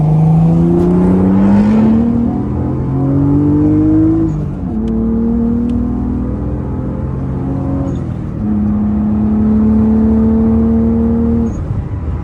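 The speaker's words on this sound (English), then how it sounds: "I gotta race this Audi, I guess." Car accelerating hard while racing an Audi, a loud, close engine climbing in pitch through repeated gear shifts with brief dips between pulls.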